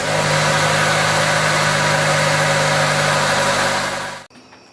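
A Mitsubishi 4G64 engine idles steadily with the heater fan blowing on high, a constant loud mechanical hum and airy rush that cuts off abruptly near the end.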